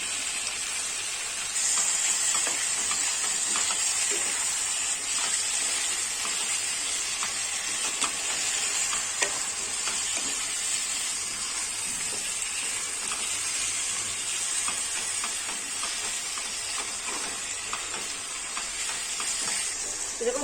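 Chopped tomatoes fry in a pan for capsicum chicken, giving a steady, close hiss and sizzle that runs throughout with faint scrapes from stirring.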